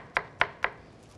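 A knife chops pepper on a cutting board for a Turkish sea bass stew, three crisp, evenly spaced cuts close and clear with no talk.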